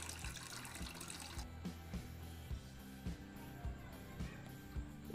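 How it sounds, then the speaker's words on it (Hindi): One cup of water being poured into a pot of chicken curry, a soft running-water splash with faint repeated taps and knocks of the pot, quiet and close, no talk. "अब हम इसके अंदर 1 कप पानी ऐड कर देंगे।"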